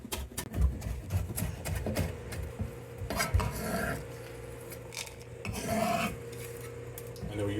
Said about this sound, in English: And then we're using about 2 cloves of garlic. We're just crushing it.